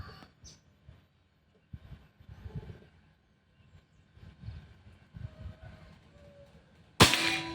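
An air rifle, a Pajerogun Gen 5, fires a single sharp shot near the end, a loud close broadband crack after a stretch of quiet handling noises.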